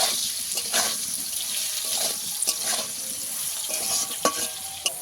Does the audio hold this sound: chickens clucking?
no